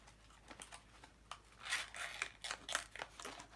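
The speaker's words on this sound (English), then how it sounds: "Trusty dusty scissors." Scissors cutting open Fenty Beauty packaging, a quiet series of close crisp snips and slicing strokes through plastic and cardboard, growing a little louder midway, with light crinkling between cuts.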